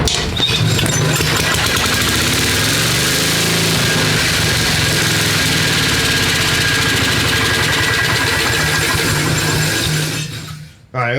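An old Briggs & Stratton 12–18 hp engine on a 1970s generator set runs loud and close with a rough, knocking mechanical clatter, holding steady before cutting out abruptly near the end.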